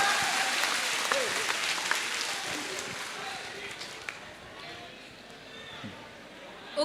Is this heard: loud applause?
yes